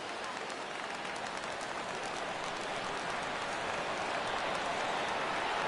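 Steady crowd roar in a baseball video game, fans rising and cheering on a full count late in a Braves at Mets Opening Day matchup, a dense continuous wash of noise held at constant loudness throughout.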